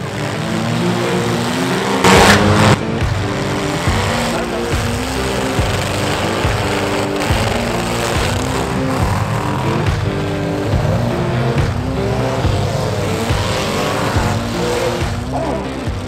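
Race cars roaring and revving at an evening motor event in New Castle, Virginia, a dense continuous engine drone with rising and falling pitch sweeps, loud and steady throughout with a brief burst near the start.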